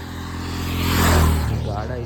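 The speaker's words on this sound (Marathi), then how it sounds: "गाड्या इतक्या तुफान जात आहे" A vehicle speeds past on a road, swelling to a loud whoosh around the middle and then fading as it moves away, with voices talking over it.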